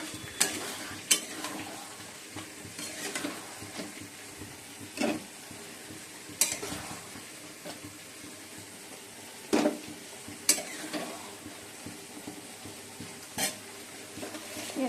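Chicken kosha being stir-fried in a pan seasoned with black cumin and dried red chilli, a steady sizzle broken by repeated sharp scrapes and clinks of the spatula against the metal, no one speaking.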